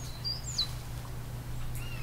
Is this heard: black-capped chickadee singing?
yes